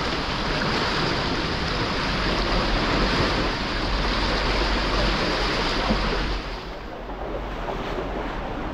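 Floodwater rushing through a flooded river cave, a steady, loud broadband roar that stays constant throughout and eases slightly near the end.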